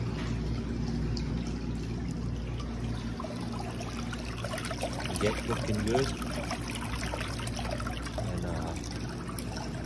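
Steady trickling and running water through a LUXSPA LS250 white pedicure chair's water system, a continuous low wash with someone speaking briefly over it.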